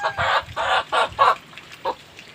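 A backyard chicken with a watery, tearing eye clucks close by in a run of four short, evenly spaced bursts, then a quieter fifth after a pause, with no one talking.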